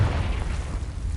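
A Confringo spell blasts in Hogwarts Legacy, a single loud close fiery boom with a deep rumbling body that fills the short moment.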